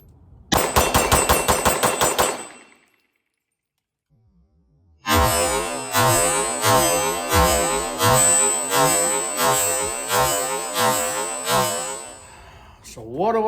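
Springfield Echelon pistol fired at an outdoor range: a first quick string of about eight loud, sharp shots, a pause, then a longer steady string of around ten shots with ringing echoes.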